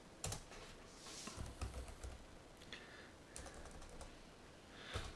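Quiet keystrokes on a computer keyboard entering a shortcut, with scattered clicks and short clusters of taps spread across a few seconds.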